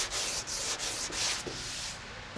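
Hand sanding a classic Ford Bronco body panel with 180-grit paper to knock down surface texture and guide coat; steady, close, hissing back-and-forth rubbing strokes in a quick, even rhythm, with no talking.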